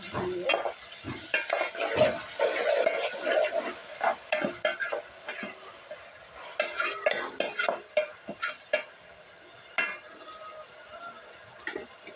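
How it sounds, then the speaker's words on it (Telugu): Onion pieces with ginger-garlic paste fry in a pan, giving a steady close sizzle broken by repeated scraping and stirring strokes and an occasional clink of the utensil. "కలిపితే కొంచెం ఫ్రై అయినట్టుందండి చూద్దాం"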